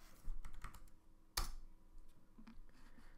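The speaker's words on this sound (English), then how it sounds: "so I'm just going to type in Firefox" Someone types on a computer keyboard nearby with quiet, irregular key taps and one louder clack in the middle, then a few softer presses.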